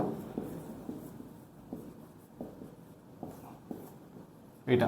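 Chalk or marker writing a chemistry formula on a board, a series of short scratchy strokes in an irregular rhythm, fairly close and clear, ending in a louder burst.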